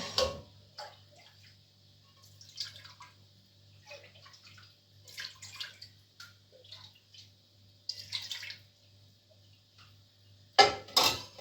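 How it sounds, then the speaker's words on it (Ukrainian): Excess water is drained from a pot while jars are prepared for canning peas in a home kitchen, heard as faint intermittent splashes and metallic clinks over a low steady hum, then a louder splash at the end. "забагато води налив"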